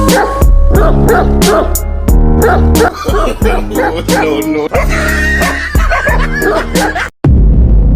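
Dogs bark in a rapid run of loud, close yaps and woofs, with a few whimpering notes and a sudden cut-off near the end.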